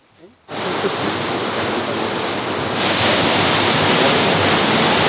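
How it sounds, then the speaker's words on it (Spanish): Waterfall in Tanzania on a walking safari, a broad steady roar of falling water that starts abruptly after a quiet moment and stays loud and constant throughout. "ha visto una cascada preciosa que hay aquí"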